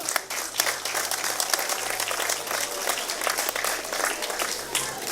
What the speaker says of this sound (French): Nous pouvons applaudir la famille Maquel